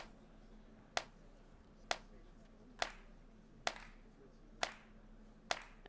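Steady claps at a slow, even pace in the rhythm game Bits and Bops, six sharp hits roughly a second apart, crisp and fairly close over a quiet background hum.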